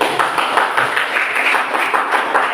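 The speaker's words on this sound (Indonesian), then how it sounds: "kasih tepuk tangan." A class of students clapping their hands in a classroom, a loud, close, dense patter of many claps sustained evenly throughout with no talk over it.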